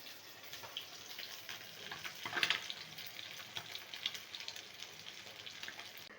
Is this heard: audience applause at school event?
no